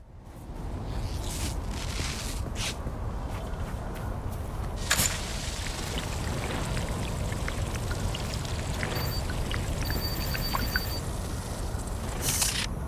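Water residue is collected in the video game Dune Awakening, with a steady pouring, trickling wash running continuously for several seconds, broken by a few soft clicks and squishes, without talk.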